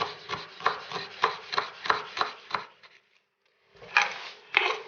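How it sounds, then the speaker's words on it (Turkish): Parsley being chopped with a knife on a board for a pickle salad: a steady run of about eight crisp rhythmic cuts, a brief pause, then two more close, clear chops, with no talk. "Son olarak maydanozu da kıyıyoruz."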